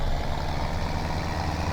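A tractor engine in Farming Simulator 2017 drones in a steady, close, low idle-like hum, unbroken and fairly loud, with nothing else over it.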